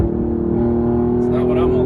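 Loud, steady exhaust drone from a 2021 Alfa Romeo Giulia QV fitted with an X-pipe, holding a deep, even tone with a slight rise near the end.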